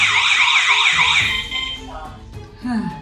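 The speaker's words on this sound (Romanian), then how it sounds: "Asta este panoul de exterior, alarmă de exterior" A loud electronic home security alarm siren from an outdoor panel wails in rapid up-and-down sweeps, then cuts off as the system is disarmed, leaving brief beeps and a short voice.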